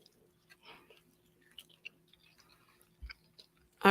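Someone chewing food close to a microphone, soft irregular bites and crunches scattered through a quiet room with a low electrical hum, ending in a louder knock or rustle.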